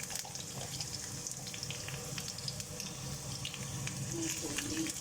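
Carrots and potatoes frying in a pan of oil for pork kaldereta, a steady close crackle and sizzle with faint watery hiss, continuous throughout and slightly louder near the end, with no talk.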